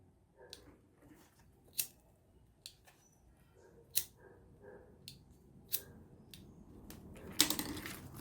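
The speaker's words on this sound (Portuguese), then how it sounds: "Então, eu vou pegar uma tesoura." Scissors snip through fabric and vinyl while a passport holder is being sewn: a quiet series of sharp, crisp cuts at irregular intervals, ending in a brief louder rustle of handled material.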